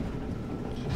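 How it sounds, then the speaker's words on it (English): In Halo 3: ODST, a Phantom dropship gives off a brief, steady, loud low roar and rush like wind, with no talk over it. "It's the sound of a phantom."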